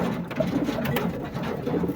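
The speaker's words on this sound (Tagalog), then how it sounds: "Ganda mga ibon" Pigeons coo softly in a bird enclosure, several low, rounded calls repeating against a faint background hum, with no talking.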